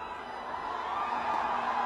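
Home crowd of the Ranchi Rhinos cheering at a Hockey India League field hockey match, a steady, dense roar of many voices that swells slightly and holds throughout.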